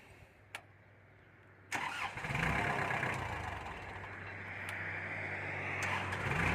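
A Kubota L4508 DT tractor engine cranks briefly, catches with a sudden roar and settles into a steady, close diesel idle.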